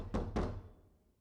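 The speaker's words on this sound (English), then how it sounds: "My fist pounds on the door" Two heavy fist knocks on a door in the horror game Death Mark, a pair of dull thuds about a quarter second apart, each with a lingering low boom that fades into quiet.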